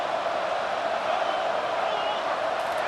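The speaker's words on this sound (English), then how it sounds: "And here comes the noise. This crowd is trying to inspire this defense to make a big red zone stop." Stadium crowd noise in the EA Sports College Football 25 video game, a steady, loud, dense roar of fans building for a red zone defensive stop.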